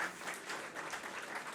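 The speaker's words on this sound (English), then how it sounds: "A huge round of applause for the team" An audience at a national moot court competition's valedictory session applauds award winners, giving a steady wash of clapping heard from a distance at low level with no voices in front.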